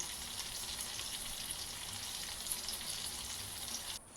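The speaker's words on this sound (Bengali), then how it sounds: "বেগুনগুলো ভেজে নিচ্ছি" Sliced brinjal (eggplant) pieces frying in hot oil in a pan, a steady, dense sizzle that continues evenly from start to finish, with no voices.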